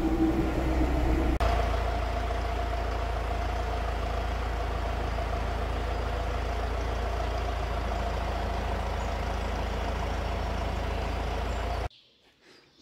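A forklift tractor's engine runs steadily at idle for about twelve seconds, a low continuous diesel rumble with a faint clatter, then cuts off abruptly into near silence.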